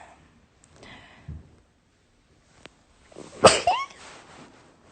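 A single sharp sneeze bursts out close by, preceded by a brief sharp inhale and faint breathy sounds, with quiet moments around it.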